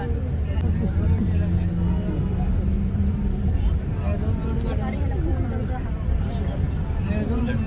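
Vehicles drive through a flooded, waterlogged Mumbai road in heavy rain, with a steady low engine rumble and churning noise, and crowd chatter mixed underneath.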